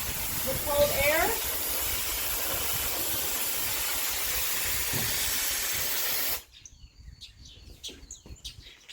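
A PS Vitality Pro cryotherapy device blows cold air across a hamstring: a loud, steady, close hiss runs for about six seconds and then cuts off abruptly, leaving faint scattered sounds.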